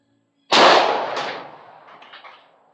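A single .45 auto pistol shot from a handload charged with H110 powder, a sharp loud crack fired outdoors and followed by a long fading echo.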